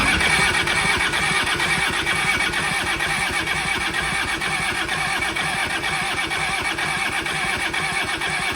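An old Kubota L285 tractor, restarted after more than eight years of sitting, cranks and runs with a loud, steady, rhythmic chugging that continues throughout. No one speaks.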